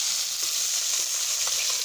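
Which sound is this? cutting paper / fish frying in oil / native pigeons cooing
fish frying in oil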